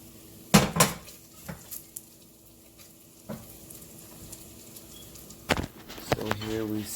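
A pan with rendering bacon grease being handled: a few sharp metallic clanks and scrapes spaced apart, with a soft sizzle in the background and a louder clatter near the end.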